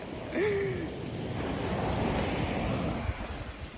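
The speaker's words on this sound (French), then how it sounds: "Enfin l'océan!" Surf washes steadily onto an empty ocean beach, a broad continuous rush of waves mixed with wind buffeting the microphone, with a brief tonal chirp near the start.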